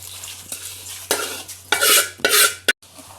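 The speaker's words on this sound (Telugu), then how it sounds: "ఇప్పుడు పచ్చడిలో కలిపేసుకుందాము." A spoon stirs cooled tempering into ginger chutney in a bowl, with several close scraping and mixing bursts separated by short pauses and no talking.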